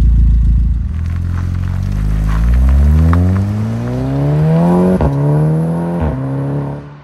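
A Volkswagen Golf VI R with a 330 hp engine revs loudly and steadily, its pitch climbing smoothly over several seconds and punctuated by two short sharp blips near the end, with no voices.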